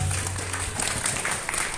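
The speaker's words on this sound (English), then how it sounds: "A round of applause for that speaker." A conference audience claps steadily, a dense wash of many hands applauding at moderate volume, fairly close, with no voices standing out.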